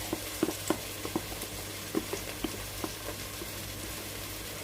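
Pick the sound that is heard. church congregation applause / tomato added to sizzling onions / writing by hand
tomato added to sizzling onions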